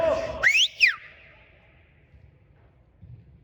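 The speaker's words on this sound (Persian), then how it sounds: "به افتخار بارسا هم سوت بزنیم" At a football match between Sharks Aces and Tdot FC, a loud, close whistle from the crowd sweeps upward and then falls in two quick bursts, followed by a faint, quiet background.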